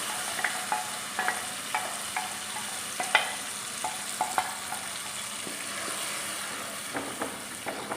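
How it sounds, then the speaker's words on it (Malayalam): Ground roasted coconut paste for a Kerala fish curry poured into hot oil, giving a steady sizzle and fry hiss broken by repeated clinks and scrapes of a spoon stirring in the pan. "അരച്ച് വെച്ചിരിക്കുന്ന അരപ്പ് നമുക്ക് ഈ എണ്ണയ്ക്കകത്തേക്ക് ഒഴിച്ചു കൊടുക്കാം"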